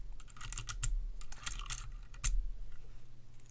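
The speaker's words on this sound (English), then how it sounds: "I'm just going to keep taking these keycaps and switches off" Keycaps and switches are pulled off a GK68 hotswap mechanical keyboard in a series of sharp, close plastic clicks and snaps. The clicks are irregular and spaced apart, with no talking.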